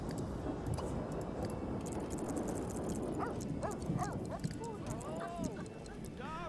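A dog in The Sims 3 whimpers and yips in short rising calls over constant game background noise and speech.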